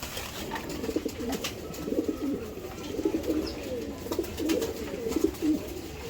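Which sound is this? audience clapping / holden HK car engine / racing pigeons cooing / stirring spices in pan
racing pigeons cooing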